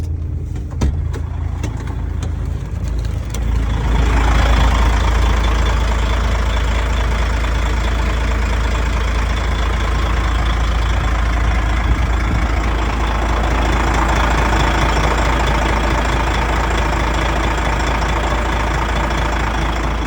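A high-mileage DAF XF105.460 tractor unit's diesel engine idles with a deep, even, continuous rumble that swells louder after a few seconds and stays steady close by.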